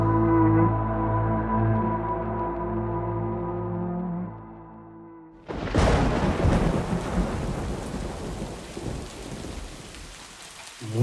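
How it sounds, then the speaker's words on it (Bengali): Heavy downpour and thunder for a horror story scene: a deep rolling thunder rumble fades out, then a loud crack gives way to dense, steady rain pouring on surfaces. "মুষলধার বৃষ্টির মধ্যে ধবলা নদী থেকে গ্রামের দিকে নিজের বাড়ির পথে ফিরছিল দেবেন। বৃষ্টির সাথে সাথে মাঝে মধ্যে বাজও চমকাচ্ছিল।"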